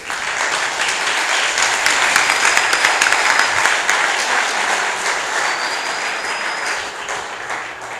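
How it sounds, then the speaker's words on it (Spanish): Church audience applause fills the space as a sustained, dense burst of clapping that holds steady at fairly loud volume for several seconds, then eases slightly at the end. "¿Alguien quiere dar un aplauso por eso?"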